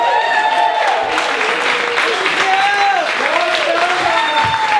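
A comedy club audience applauds and cheers as comedian Donna Moran is welcomed to the stage, a loud sustained crowd roar with a tonal music sting and a host's voice over it.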